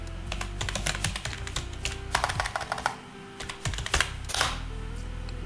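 Java code typed on a computer keyboard, rapid clusters of crisp close key clicks with brief pauses between bursts, no talking.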